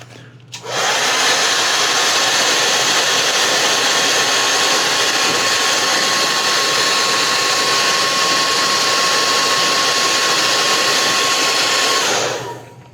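A heat gun blows hot air onto a plastic body panel skirt, a loud steady whine and rush that starts abruptly, holds evenly for about eleven seconds, then cuts off, with no voices.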